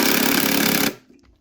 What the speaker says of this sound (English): we'll just see how far we can drive our screw into our test block.